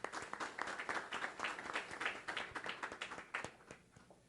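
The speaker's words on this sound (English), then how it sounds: "Let's give him a round of applause." An audience applauds at a public event in Arizona where officials such as state representatives are being introduced, steady moderate clapping with sharp individual claps standing out throughout.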